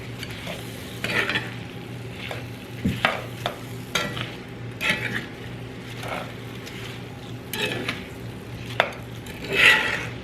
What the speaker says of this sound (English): I'm going to add my apples to this. I'm going to stir these all up real good.